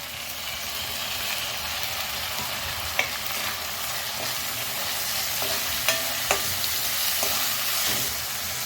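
Soaked moong dal goes into a pan of sautéing aromatics for dill greens bhaji, giving a steady close sizzle with intermittent spoon scrapes and clinks as it is stirred, no talking.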